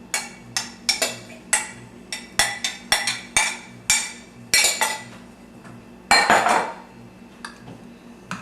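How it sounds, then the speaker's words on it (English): A big spoon clinks and scrapes in a mixing bowl as liquid is worked into a dry meal replacement bar mixture, with a run of sharp, irregular taps close by and no talk. "get a big spoon, and we take our liquid, add it to the dry mixture"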